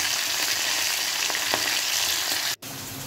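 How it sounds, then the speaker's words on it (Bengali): Pomfret fish frying in hot oil in a wok, a steady close sizzle with faint crackles and one brief dropout near the end, no talk. "তেলটা ভালো করে গরম হয়ে গেলে তারপর মাছটা দিতে হবে, দিয়ে লাল লাল করে ভেজে নিতে হবে।"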